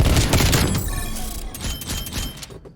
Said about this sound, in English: Flashbang inbound.